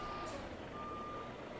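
Truck reversing beeper inside American Truck Simulator, on a vintage Kenworth K100E hauling a Wilson cattle trailer: a faint, steady high electronic tone sits over continuous rumbling engine and road noise, with no talk.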